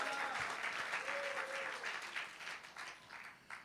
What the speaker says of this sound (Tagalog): Lahat na masaya, pumalakpak na malakas.